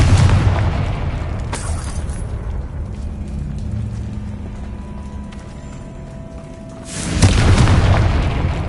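A Confringo blasting spell explodes in the Hogwarts Legacy video game: a loud, broad burst opens, a low rumbling bed follows, and a second heavy blast erupts near the end.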